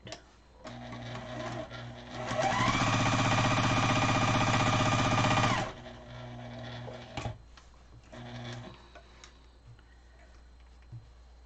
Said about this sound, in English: I'm sewing all around the outside of this 6-inch square